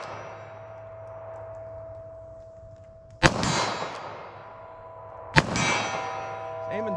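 A Taurus revolver fitted with a Crimson Trace laser fires two shots a couple of seconds apart, each a sharp bang with a ringing metallic clang off a steel target, over a steady background hum.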